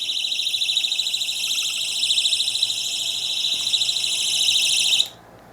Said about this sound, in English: So the top button's an alarm.